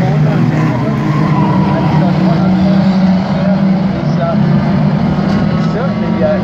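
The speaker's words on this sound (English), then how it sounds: "The power of the Triumph now begins to take it away from the land there, but the Anglia hangs on doggedly there as they go through the corner" Race cars, a Triumph and a Ford Anglia, roar loudly through a corner at Aldershot Raceway, a sustained close engine drone with a commentator talking over it.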